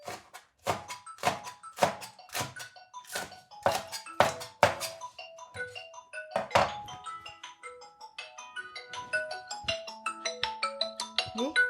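A phone rings with a melodic electronic ringtone in a Uyghur comedy scene, a series of chiming tones repeating steadily and fairly loud, with no talk over it.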